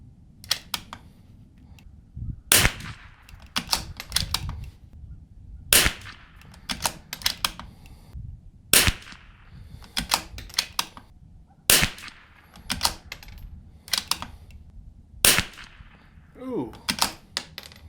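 Groups of sharp .22LR rifle shots crack out in clusters, each a loud transient with a brief ringing tail, separated by short pauses across the stretch.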